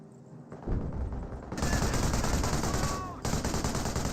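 A Vickers machine gun emplacement in Company of Heroes rattles off long, rapid bursts, loud and sustained with a brief gap between them, amid background battlefield rumble and a commentator's voice.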